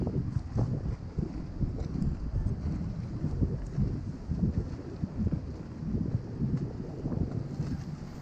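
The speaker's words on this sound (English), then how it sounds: "It's pretty windy though today." Gusty wind buffets the microphone with a low, continuous rumble, rising and falling in strength throughout.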